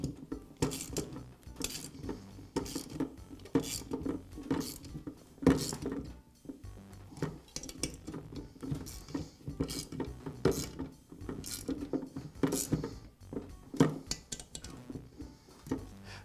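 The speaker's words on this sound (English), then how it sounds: "I'll finish tightening the bolts with a wrench." A wrench tightens bolts on a Troy-Bilt string trimmer engine during a short block replacement, making repeated close metallic clicks and clanks in an irregular rhythm with no talking.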